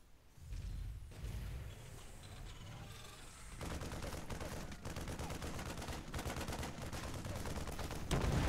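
Marines fire in the video game StarCraft II during a pro match, dense rapid gunfire bursts that start after a short lead-in and keep rattling continuously, loud and close, with no speech.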